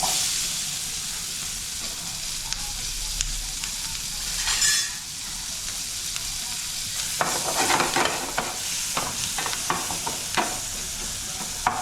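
Onion and green chili sizzle steadily in hot oil for a tadka, a constant frying hiss with rhythmic scraping and stirring strokes growing busier toward the end.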